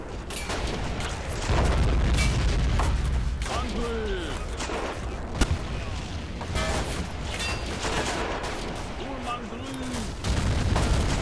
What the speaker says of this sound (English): We've got airburst artillery coming in.